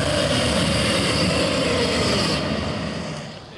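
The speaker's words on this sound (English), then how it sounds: "So instead we turn on the claw scratches and the broken walls, and the angry dragon roars." Syrinscape game sound preset of a dragon in a storm: a dense, loud, continuous roaring rumble with storm noise underneath, fading slightly toward the end, no voices.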